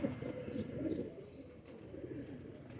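Teddy pigeons in a loft coo in low, rolling murmurs that run steadily throughout, fairly close, with a faint voice briefly in the background.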